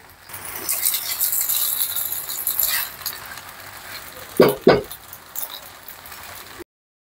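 Pasta with melted mozzarella cheese being stirred in a pan at home, a steady scraping sizzle that builds, then two loud knocks of the utensil against the pan close together before it settles back to a soft hiss.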